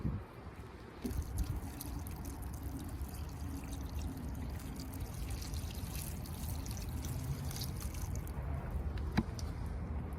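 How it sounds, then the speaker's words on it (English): Water poured from a can over potted spring bulbs such as hyacinths outdoors, a steady soft trickle and splash running continuously at close range with a faint knock near the start. "So I'm gonna give all of them water, and that will help to wake them up while the sun is out."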